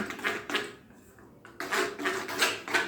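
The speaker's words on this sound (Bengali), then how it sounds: "এবারে ভালো করে মিশিয়ে নিতে হবে" Batter for a soft, oil-free steamed tiffin snack being mixed by hand in a bowl, a few soft scraping and tapping strokes with a short pause in the middle.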